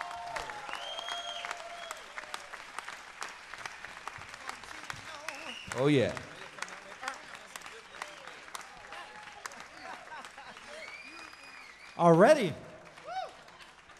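Applause from a concert audience welcoming a guest artist on stage, moderately loud scattered clapping with brief whoops and cheers, while a few words are spoken over it.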